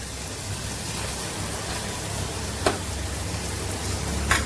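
Chili powder, coriander powder, chaat masala and garam masala sautéing in a pan for a curry give a steady, close, dense sizzle, broken by two brief sharp clinks.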